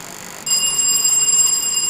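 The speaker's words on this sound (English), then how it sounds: "For an opportunity to answer a question, you must ring for it. May I hear your bell, Opoku Ware?" A quiz contestant's answer bell rings at a school science and maths quiz competition, starting abruptly and sustaining a bright, steady metallic ring of about a second and a half with no talk over it.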